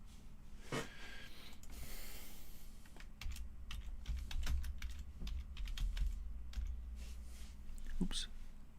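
Keys clatter on a computer keyboard in quick irregular bursts during a live stream, close and fairly clear, with soft breathing and low background hum beneath and a brief voice near the start.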